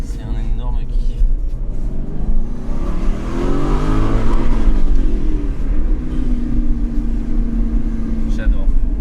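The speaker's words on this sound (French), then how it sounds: "La sonorité de cette caisse, elle est juste dingue." An older Aston Martin V8 Vantage SP10's V8 engine revs, its roar rising and swelling toward the middle and then holding as a loud, steady drone, with a voice faintly underneath.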